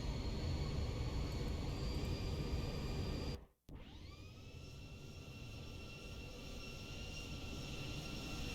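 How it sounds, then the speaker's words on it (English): An airliner in the X-Plane 12 flight simulator, a Zibo aircraft flying out of Sydney, roars past in a flyover: a loud, steady jet whine cuts out for a moment, then returns with its pitch sliding down as it passes. "I'm going to get a flyover here."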